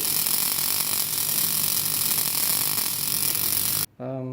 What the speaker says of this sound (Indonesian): Nyalakan ignitornya.